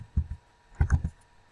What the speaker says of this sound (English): I'm going to start typing information about myself